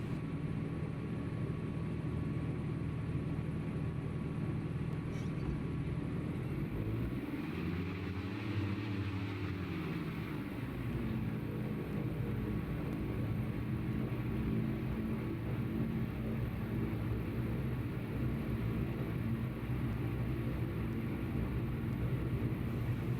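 Twin engines of a Diamond DA62 in Microsoft Flight Simulator 2020 roaring on takeoff from runway 20, a loud steady drone with a brief sweeping rise and fall partway through, continuous with no voices.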